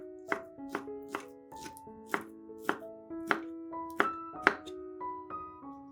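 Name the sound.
knife chopping sausage into cubes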